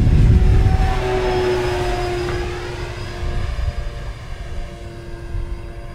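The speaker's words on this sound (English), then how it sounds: "And I'll go ahead and get the landing gear down." Banana Hobby / LX Models B-25 79-inch RC scale bomber flying overhead with its landing gear lowering, a steady loud twin-engine drone and propeller whine that fades slightly as it passes, with no talk.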